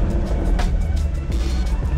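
A convertible sports car idles steadily after starting with the exhaust button off, giving a continuous low engine rumble close by with no talk over it.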